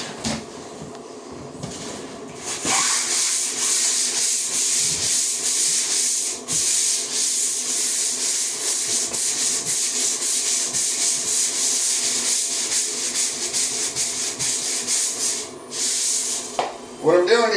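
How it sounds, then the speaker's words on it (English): Drywall is sanded by hand in a long, continuous stretch of harsh, steady scraping and rubbing, starting after a short quiet lead-in and close to the microphone. "I'm doing a little sanding this morning"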